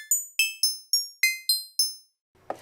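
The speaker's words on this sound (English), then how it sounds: "I added a second oscillator, which is called number pitch bend" High-pitched synth oscillator with pitch bend plays seven thin, piercing notes in quick succession, each fading fast, followed by a brief soft noise at the end.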